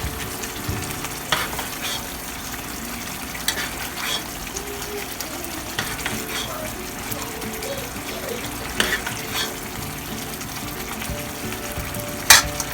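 Golda shrimp frying in spiced curry in a pan, a steady soft sizzle running throughout with occasional stirring scrapes and clinks, close by and fairly quiet.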